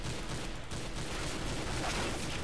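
Rapid gunfire crackles in a video game, a dense continuous fusillade of shots with no one speaking over it.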